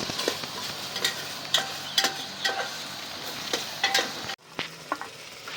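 Chicken curry gravy with turmeric and chili powder sizzling in a pan while a spoon scrapes and stirs it in repeated strokes, a steady fry hiss underneath and a brief clatter near the end.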